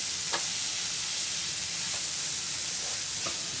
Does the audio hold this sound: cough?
no